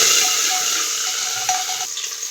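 Garlic, ginger and curry leaves frying in hot oil in a home kitchen while being stirred, a steady close sizzle with faint scraping of the spoon, no talking.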